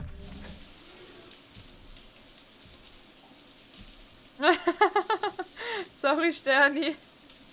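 Running shower water in the video game Cyberpunk 2077 starts abruptly as a close, bursty splashing that sputters in pulses over several seconds, after a brief spoken remark.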